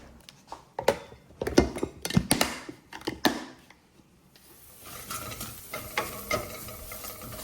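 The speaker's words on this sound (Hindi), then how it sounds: "मैंने गार्लिक और जिंजर का चॉप किया हुआ डाल दिया उनको, और उनको गोल्डन होने तक हम भून लेंगे।" Chopped garlic and ginger frying in a tempering pan, with a burst of spoon clatter and scraping strokes that dies away to a quieter, steady sizzle with occasional stirs.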